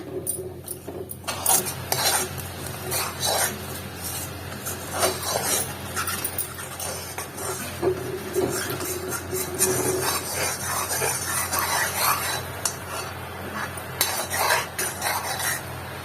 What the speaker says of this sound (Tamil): நான் ஃபர்ஸ்ட் தண்ணி ஊத்தி மெல்ட் பண்ணிக்கிறேன்.